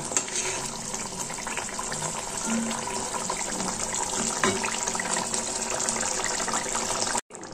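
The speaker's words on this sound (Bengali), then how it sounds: "ঝোলটা ভালোভাবে ফুটে এসেছে" Fish curry broth boils in a pot, a dense, continuous bubbling rush that holds steady before cutting off abruptly near the end.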